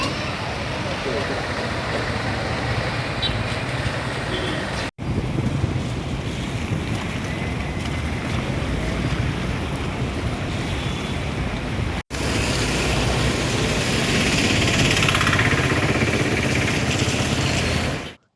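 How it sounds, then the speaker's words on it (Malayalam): Rushing monsoon floodwater of the Bharathapuzha river near Pattambi bridge, a loud, steady roar of fast-flowing water with wind buffeting the microphone throughout, interrupted by two brief cuts. "ഇന്നലെ രാത്രിയിലും ഇന്ന് രാവിലെയുമായി പെയ്ത മഴയിൽ പുഴ പാലം തൊടുമെന്ന നിലയിലാണ് ഒഴുകുന്നത്"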